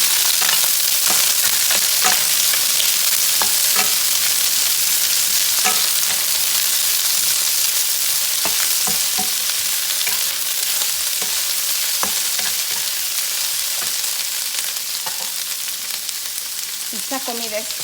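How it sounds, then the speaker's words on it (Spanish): Onion and poblano chiles sauté loudly in a pan, a constant bright sizzle with scattered crackles and pops throughout. "Ya está listo para poner a sofreír nuestra cebolla y nuestros chiles poblanos."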